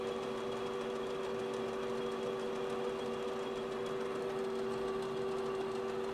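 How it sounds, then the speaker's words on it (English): A South Bend lathe runs steadily while cutting, facing and turning a workpiece, giving a faint, even mechanical hum with a constant whine and no voices. "we're back to a cutting operation over here"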